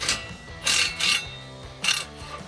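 Ratchet working an exhaust nut on a 2017-2022 Ford F-250 during an exhaust install, a few bursts of quick clicking with pauses between, close and fairly quiet, no talk.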